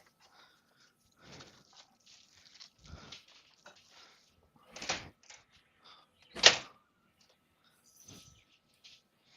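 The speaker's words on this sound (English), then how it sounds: "I think Steve opened the front door" A few scattered thumps and clatters with a sharp click-bang near the end, like a door being opened and handled at a distance, over a quiet room.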